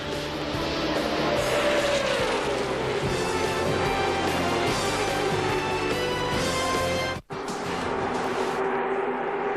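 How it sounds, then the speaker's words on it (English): Stock cars roar around the track at the 2000 Daytona 500, a dense, continuous pack of engines droning loudly with a slowly shifting pitch as the lead draft passes, with no voices over it. "68 laps completed the Daytona 500, and the lead draft is now 12 cars, plus Jeff Gordon"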